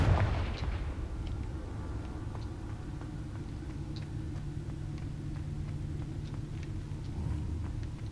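Fire spell explosions boom in Hogwarts Legacy, a deep rumbling burst at the start followed by a sustained low roar with scattered crackles and small pops.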